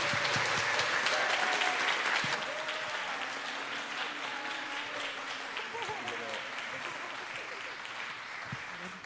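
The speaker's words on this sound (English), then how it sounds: "a round of applause, please" An audience at an artists-in-residence roundtable breaks into steady applause, loud at first and then settling into a sustained, slightly softer clapping that carries on to the end.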